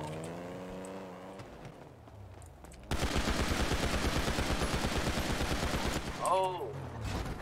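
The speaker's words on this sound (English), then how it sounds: "they're shooting RPG at us" Rapid bursts of automatic gunfire from a GTA roleplay firefight rattle loud and continuous for several seconds, following a stretch of engine and vehicle noise, with a rising whoosh near the end.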